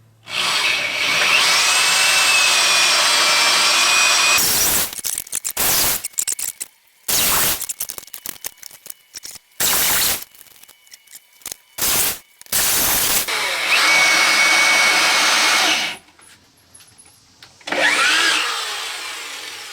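A power drill bores a series of holes through a wood panel meant for removable rear-seat truck storage, loud whining runs broken by short pauses, quick successive bursts, then longer drilling stretches close up.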